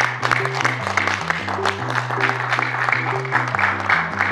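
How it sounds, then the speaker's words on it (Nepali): Applause from a congregation at a Nepali Christian gathering, welcoming speaker Ramesh Dayali, continuous and fairly loud over a steady low musical drone with shifting tones. "उहाँलाई हामी एकदमै ठुलो तालीको साथमा स्वागत गर्नेछौँ"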